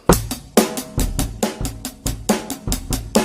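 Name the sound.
drum kit rock pattern played without energy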